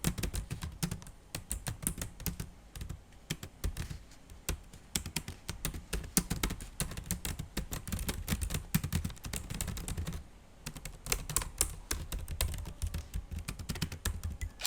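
Typing on the keyboard of an Advan Soulmate X laptop, a dense, steady run of close, clicky keystrokes with fairly deep travel and noticeable noise, continuing throughout with a brief pause near the middle.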